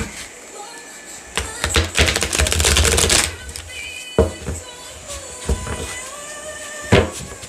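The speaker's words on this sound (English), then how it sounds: "Let's do one more shuffle." Tarot cards being shuffled, a dense rapid riffle of flicking card edges lasting about a second, followed by scattered taps and soft knocks as the deck is squared, close to the microphone.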